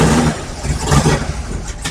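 A 1955 Chevy big block V8 revs loudly at its first start, a rough, rowdy engine roar with clattering texture that rises and falls in short bursts.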